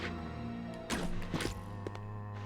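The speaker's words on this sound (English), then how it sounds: "This is the sound of the bow gun." A bow gun fires in Resident Evil Code Veronica X: two soft, quick thudding whooshes land close together over a steady bed of game music.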